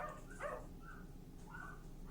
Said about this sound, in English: That is 17 dogs right there.